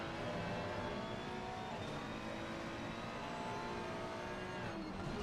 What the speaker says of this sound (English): Hear that great engine sound and downshifting down into the boot.